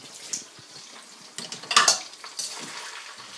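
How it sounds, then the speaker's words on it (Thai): Dishes being washed by hand: close clinks and clatters of plates, pots and cutlery knocking together at irregular intervals over faint running water, with no talking. "ล้างจานนี่หน่อย"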